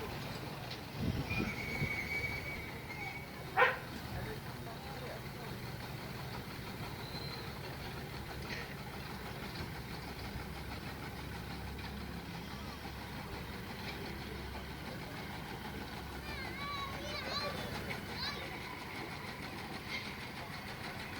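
A miniature steam traction engine runs past in an outdoor parade, towing a traction wagon and water cart, with a low steady rumble and chuff, a few squeaks and clanks, and a murmur of voices nearby.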